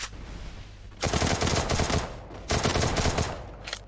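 Loud video-game gunfire from a headshot in a shooter match, two dense bursts of rapid shots about a second long each, separated by a short lull, close and harsh with no talk.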